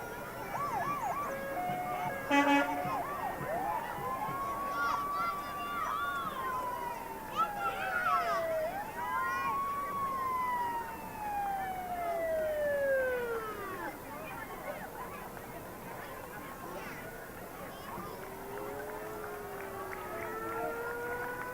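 Antique fire engines in a 275th anniversary town parade in Wilmington, Massachusetts, sound wailing sirens that rise and fall over several long sweeps, loud and close at first then trailing off, over crowd noise and a commentator talking.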